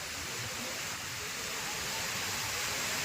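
Steady, dense rush of the swollen Girna river flowing close by, a loud broadband roar without pause.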